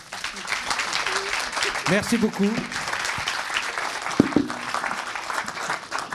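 An audience applauds at a French animation awards screening, a broad wash of clapping from many hands that swells and holds while a voice briefly speaks over it.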